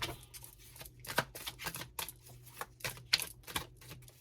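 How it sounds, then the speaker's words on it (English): Tarot cards being handled and drawn from a deck at close range, heard as a quick series of crisp card slaps and shuffling clicks in an irregular rhythm, with no speech. "Let me pull another card."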